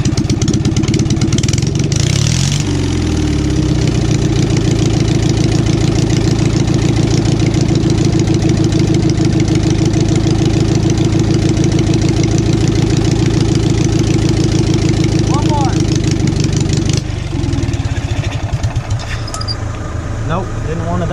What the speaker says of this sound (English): I'll give it a few revs and see if she'll start up again.